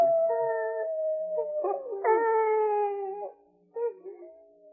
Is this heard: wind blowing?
no